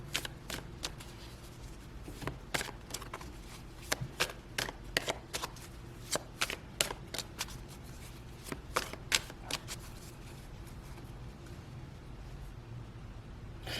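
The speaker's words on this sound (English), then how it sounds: "Let's cut the deck." A deck of tarot cards being cut and shuffled up close, with a long run of crisp, irregular card snaps and riffles that come in quick clusters. The sound is quiet and continuous, and no one speaks.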